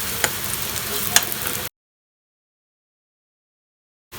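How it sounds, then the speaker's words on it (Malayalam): Onion and crushed chili are sautéed in a pan with a steady, close sizzle and scraping stirs for under two seconds. The sound then cuts to silence, and the sizzle returns briefly at the very end. "ചതമുളക് ഇട്ടിട്ട് ഉള്ളി നല്ലോണം അങ്ങനെ വാട്ടാം"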